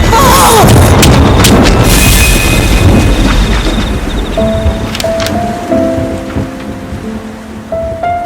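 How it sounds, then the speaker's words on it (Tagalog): Thunder rumbling through a midday thunderstorm under heavy overcast skies in the provinces, a loud continuous roar with low booms and rain-like hiss, fading slightly as faint tonal music enters underneath. "Panay ang kulog at kidlat kahit pa tanghaling tapat."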